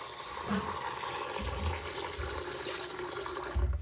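Water sloshes and runs faintly as foxtail millet is washed in a bowl before soaking, a soft continuous trickle with small splashes close by.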